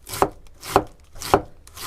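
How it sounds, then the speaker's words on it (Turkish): A knife chops through red cabbage on a board in three crisp, evenly spaced strokes, close and clear with no talk. "Biraz da mor lahana"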